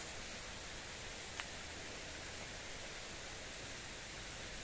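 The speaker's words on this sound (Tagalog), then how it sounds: "Ang sarap pakinggan yung ano ng tubig. Kita nyo yung daloy ng tubig." Water flowing at Silverstrand Beach, a continuous even rush of broadband noise, steady and fairly close, with one faint click.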